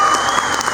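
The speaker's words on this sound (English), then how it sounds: "Let's give him a nice round of applause, everybody." A brief burst of loud, dense applause from the crowd at a salmon fishing derby awards ceremony, greeting a winner.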